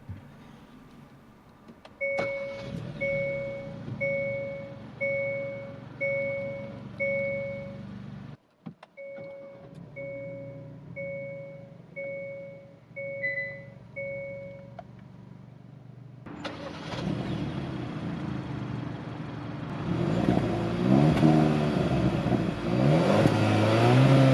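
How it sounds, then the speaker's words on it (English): A 2022 Hyundai Kona N Line with a 1.6-liter turbocharged four-cylinder: a run of repeated warning chimes, then the push-button start fires the engine, which settles into a steady idle and rises in a few revs, close and loud. "The Kona N Line has a push-button start, so let's press the button and start it up."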